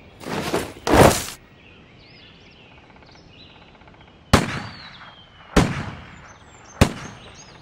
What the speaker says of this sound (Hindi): वायसराय का स्वागत 21 तोपों की सलामी से किया गया।